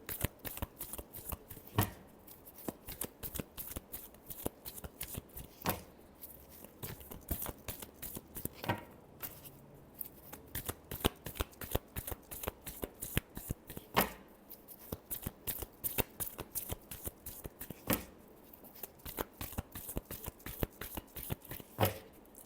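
Tarot cards are shuffled continuously for a long stretch, giving steady rapid riffling and pattering taps at a close, soft level.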